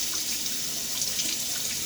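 A bathroom tap runs steadily for rinsing after a shave, a continuous close hiss of flowing water into a sink with no talk.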